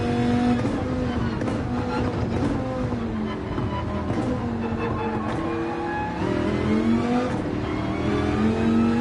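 A Dodge Viper race car in a racing video game revs hard through rising and falling engine notes and gear changes, loud and continuous, with no talk over it.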